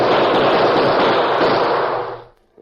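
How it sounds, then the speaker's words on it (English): A dense, sustained roar of rapid gunfire and blasts, loud and continuous, dying away abruptly near the end. "the Lone Ranger and Tonto returned the deadly gunfire of their unknown assailants"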